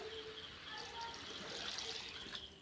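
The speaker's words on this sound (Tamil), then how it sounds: "இப்போ வந்து கிரேவிக்கு தேவையான அளவு தண்ணி சேர்த்துக்கலாம்" Water pours in a soft, steady hiss with a faint splashing quality into cooking cauliflower gravy, fairly quiet and continuous for a few seconds.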